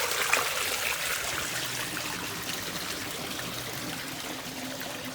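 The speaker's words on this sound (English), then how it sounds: "and let the rest of the water in the tank come" Water pours steadily out of the opened drain plug on a Hayward ProGrid 60 sq ft diatomaceous earth pool filter tank, a continuous close splashing trickle with no talk.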